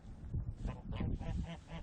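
Male geese honk in a flock, several harsh nasal calls overlapping in quick succession, close and fairly loud.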